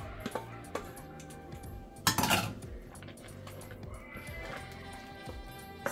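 Ogbono soup with mushroom stirred in a pot, with spoon clinks and scrapes against the metal and one louder clattering burst midway, close and otherwise quiet.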